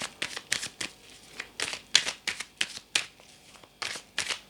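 Tarot cards are shuffled by hand close up, with a steady run of crisp, papery riffles and flicks repeating quickly and evenly, with no voice over them.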